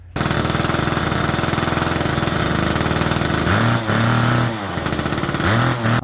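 A vintage Homelite chainsaw engine runs continuously at a loud, fast, high idle, sounding near and steady with a slight wavering in pitch and no voices.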